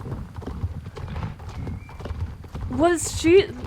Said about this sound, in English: Why is there so many horses out here?